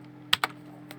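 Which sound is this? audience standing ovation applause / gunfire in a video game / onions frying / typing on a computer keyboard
typing on a computer keyboard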